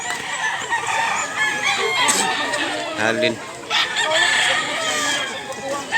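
A White Kelso rooster about a year old crows loudly and close, one long strained call, while someone talks over it and other fowl cluck nearby.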